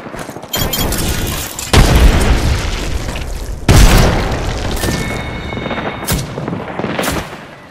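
A frag grenade goes off in the Apex Legends video game, one of several loud booms that each crack out and then roll off into a decaying rumble, close and heavy, with no talk.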